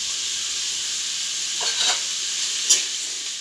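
Jackfruit pieces and chana dal fry in a pan with turmeric and salt, giving a steady close hiss and sizzle throughout, broken by a few soft scrapes of stirring.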